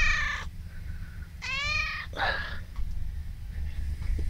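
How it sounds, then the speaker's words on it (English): Cats meow indoors in several distinct calls, one short and one longer and drawn out, with a softer meow between them, all fairly close over a low steady hum. "Say hello to kitties."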